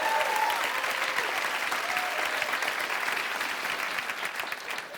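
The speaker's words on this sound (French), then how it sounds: "On peut les applaudir parce que c'est pas évident." A studio audience claps in sustained, lively applause that holds steady and slowly tapers toward the end, with a voice briefly audible over the clapping.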